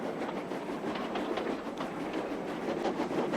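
A freight train rumbles steadily along with faint rhythmic clacking of wheels on rails, continuous and moderately distant.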